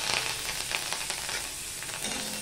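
Mustard seeds tempering in a small amount of hot oil, giving a steady, close, dense sizzle with faint crackles and pops throughout.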